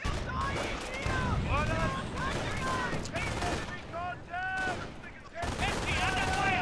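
Machine gun fire in Company of Heroes, a WWII strategy game, in bursts and scattered shots mixed with other battle noise, running steadily under commentators talking throughout.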